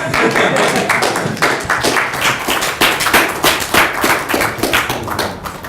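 Warm audience applause at a film festival talk, dense irregular clapping close by and fairly loud, with individual claps and a few thumps standing out, sustained for several seconds without talk.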